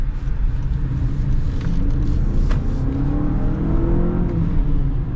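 A 2025 Honda CR-V hybrid accelerates from inside the cabin, a steady low engine drone with road rumble building gradually, no talk over it.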